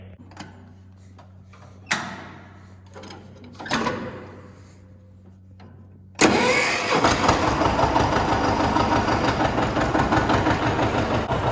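A few separate mechanical clunks as a tractor engine is cranked, then it catches and settles into a loud, steady rumbling idle.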